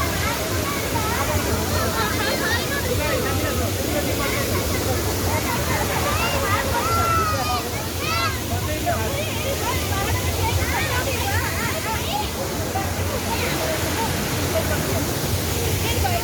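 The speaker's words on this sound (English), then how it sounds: "the Gundicha Ghai waterfall." The Gundicha Ghai waterfall pours in a constant loud, dense roar of falling and splashing water, steady throughout with no pauses and no clear voices over it.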